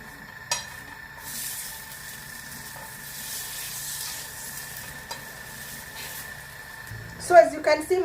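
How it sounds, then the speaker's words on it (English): Chapati cooking in a pan with coconut oil, giving a steady low sizzle with occasional utensil scrapes and clinks, a sharp clatter near the end, under quiet room ambience. "I'll just carry on cooking the chapati while we wait for my lentil soup"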